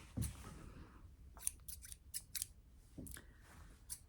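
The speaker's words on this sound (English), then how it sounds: "Good metal scissors, shears like this are incredible." Several crisp metal shears snips, close and sharp, spaced irregularly with brief quiet gaps between cuts.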